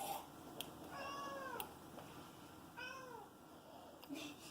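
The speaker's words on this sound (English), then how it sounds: "What's the matter, Skitty? Poor you, Skitty kitty" A pet cat meows twice in drawn-out, falling calls, close by, with faint room noise between.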